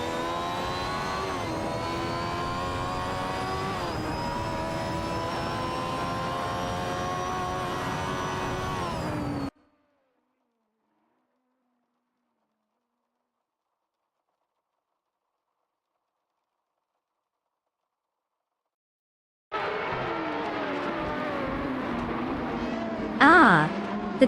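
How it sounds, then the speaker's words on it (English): Race cars in an F1 video game drone with steady, loud engine whine and shifting pitch, then a long stretch of silence before the engine sound returns. "Racing car dashing away."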